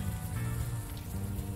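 Steady rain patters on surfaces in the adventure game Unavowed, a dense, even hiss with a low rumbling undertone, continuous and moderately loud with no voices.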